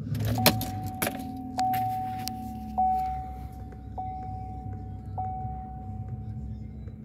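A 2016 GMC Sierra 1500 SLE pickup starts up nearby: keys jangle in the ignition, a dash chime pings steadily, and a low engine idle rumbles underneath.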